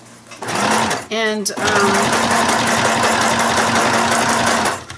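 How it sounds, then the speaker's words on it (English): A small Janome sewing machine stitches fabric for an art project, a steady fast mechanical whirring hum running nearly continuously and close up, with a brief pause near the start while someone speaks a word over it. "this sewing machine is strictly for doing art like this"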